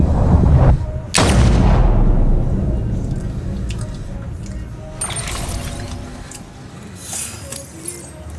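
Gunshots ring out in a tense standoff, with a sharp loud blast near the start and further cracks later, set among shouting voices and trailing reverberation.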